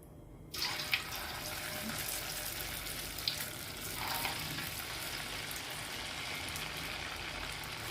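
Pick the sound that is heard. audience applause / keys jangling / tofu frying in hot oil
tofu frying in hot oil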